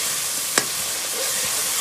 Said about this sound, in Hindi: और अब इनको मैं लगा रही हूँ तड़का।